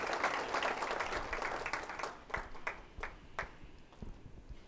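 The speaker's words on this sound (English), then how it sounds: "Give her a round of applause, please." A conference audience at a small business event claps for a woman in the crowd, dense applause that holds steady and then breaks into sparser, distinct individual claps as it winds down.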